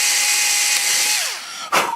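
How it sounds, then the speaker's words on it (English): A power drill bores a hole into a Phoenix Models Genesis model, its motor whining steadily up close, then spinning down before a short rattling knock. "you can go ahead and drill all 4 holes"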